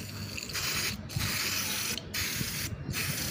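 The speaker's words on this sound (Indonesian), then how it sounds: "Oke, sekarang kita semprotin pakai WD." WD cleaner sprayed into the throttle body of a Daihatsu Granmax, heard as three close, loud hissing bursts with brief pauses between them and no talk.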